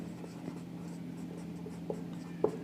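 Pen scratching on paper while someone writes an accounting journal entry by hand, faint scribbly strokes with a few sharper taps near the end, steady background hum.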